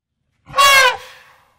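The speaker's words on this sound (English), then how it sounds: "This is an elephant." An elephant gives one short, loud, close trumpet blast that cuts off quickly and fades into a faint tail, with nothing else around it.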